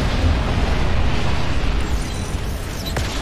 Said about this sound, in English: Open fire on those Decepticons.